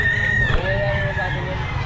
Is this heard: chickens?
yes